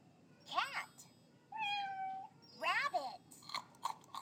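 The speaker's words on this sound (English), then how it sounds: "Cat." Cat meowing in a children's animal puzzle game, with several short meows and one longer, steady meow in between, clear and close.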